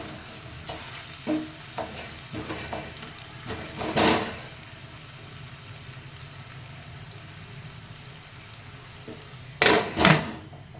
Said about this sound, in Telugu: ఉల్లిపాయలు సగం వేగుతున్నాయండి